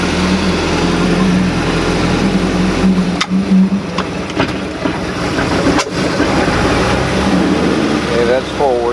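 A 3.7L MerCruiser boat engine with a worn gimbal bearing runs steadily in forward gear, a loud continuous low rumble with a few sharp knocks and clanks, while a person talks over it.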